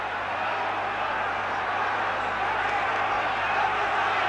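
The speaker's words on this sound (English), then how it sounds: "And this crowd now is on tiptoe with excitement behind me." A boxing arena crowd at a world featherweight title fight between Johnny Famechon and Jose Legra, a steady excited roar and murmur throughout, heard behind a commentator.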